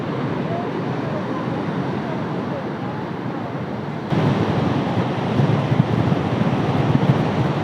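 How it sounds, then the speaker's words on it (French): Strong wind by the sea at Málaga near the lighthouse, a loud continuous roar buffeting the microphone with surf-like wash, growing harsher partway through. "Il y a beaucoup de vent."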